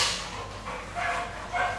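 A purebred boxer dog barks a few times, short rough yaps at moderate distance over faint room noise.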